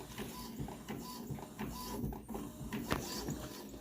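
A converted sublimation printer runs through a print job, its print head shuttling back and forth in quick mechanical passes with whirring, clicking and a sharp clack near the end, close and moderately loud.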